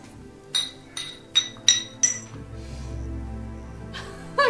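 Drinking glasses clink together in a toast, about five sharp, ringing taps in quick succession, close and clear over a low background hum.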